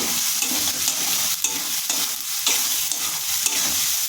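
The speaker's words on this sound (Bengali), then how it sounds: "সর্ষে আর টমেটো ভালো করে আলুর সাথে ভেজে নেব।" Mustard seeds and tomato frying with potatoes in a pan for a spicy spinach dish, a steady close sizzle with stirring scrapes and occasional sharp crackles.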